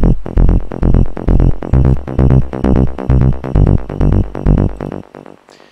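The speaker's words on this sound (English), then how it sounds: "And then we have the mid bass that changes octave," A loud synth mid bass pulses rhythmically, jumping between octaves as the pattern repeats, with no voices, and it fades at the end.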